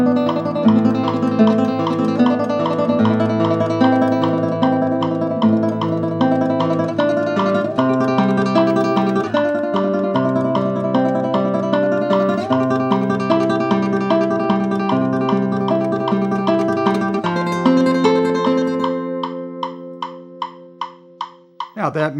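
Classical guitar playing Recuerdos de la Alhambra at 152 beats per minute, rapid steady tremolo notes over bass tones, close and clear, ending with the last notes ringing out alone.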